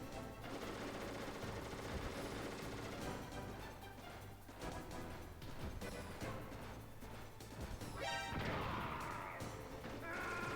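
Clattering bursts of gunfire and crashing rocket impacts fill a Metal Gear Solid boss fight, loud and chaotic with repeated rapid shots and explosive hits, no talking.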